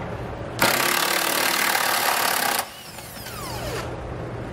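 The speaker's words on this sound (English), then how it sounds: "We'll use a 22 millimeter socket." A power tool with a 22 mm socket loosens a trailer hitch bumper bracket bolt on a 1999 Chevrolet, giving a loud steady whirring burst of about two seconds followed by a quieter spin-down, with no voices.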